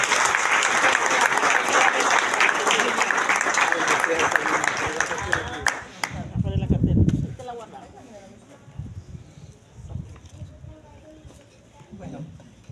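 A church congregation applauds loudly and steadily for about six seconds, mixed with cheers and voices. The clapping then stops and murmuring talk carries on.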